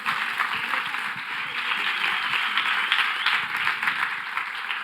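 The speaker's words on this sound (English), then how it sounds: "Another applause for Develop." Steady, dense applause from a conference audience for a team at a startup final-pitch event, sustained and fairly loud throughout with no pauses.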